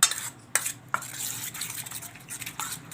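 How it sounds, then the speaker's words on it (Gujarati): A spoon stirs batter in a bowl with a few sharp clinks against the side and softer wet scraping between them, close and without any voices. "તો આ રીતનું આપણે બેટર બનાવવાનું છે."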